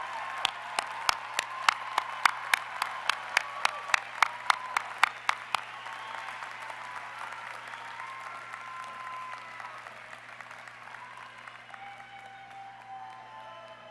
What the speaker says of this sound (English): would like to salute you with a round of applause